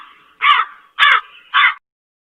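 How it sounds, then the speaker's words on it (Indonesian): A crow gives three loud, close caws in a row, evenly spaced, with a faint rasp between them and then silence. "Kemudian burung gagak pun datang membawa makanan untuk Elia."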